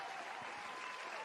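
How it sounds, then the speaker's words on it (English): Applause sound effect from a crowd, a short, dense burst of clapping at moderate volume with no speech over it. "I gotta have that clap going for this guy"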